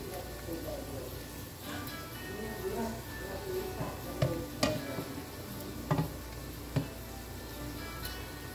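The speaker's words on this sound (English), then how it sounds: "we just want to brown the shrimp a little bit." Shrimp sizzle and fry as they brown in a pan, a constant crackling hiss with a few sharp clicks of utensils against the pan, while a person talks over it.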